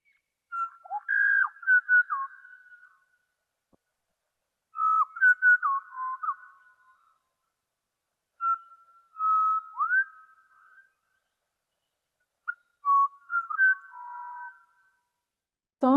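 A songbird at Honeymoon Gap sings four clear, whistled phrases of one to two seconds each, separated by long silences, loud and close with no background noise.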